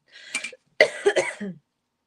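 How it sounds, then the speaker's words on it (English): Two bursts of coughing, close and fairly loud, the second a longer harsh fit with throat-clearing rasp, separated by a short pause. "Coughing right in your ear."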